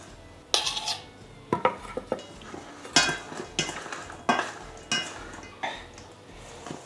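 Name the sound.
stirring spiced biltong meat to coat it evenly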